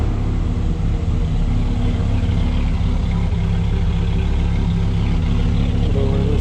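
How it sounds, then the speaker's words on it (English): A 2004 Dodge Ram SRT-10 pickup with a Viper V10 idles close up, its exhaust giving a steady, loud, deep burble that holds evenly for several seconds. "Let you hear the exhaust."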